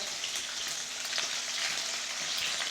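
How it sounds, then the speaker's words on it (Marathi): Peanuts stir-fry in a pan of hot oil with mustard seeds, green chillies and curry leaves, making a steady, close, crackling sizzle with faint scrapes of stirring and no talking. "शेंगदाणे चांगलं परतून घ्यायचं आहे"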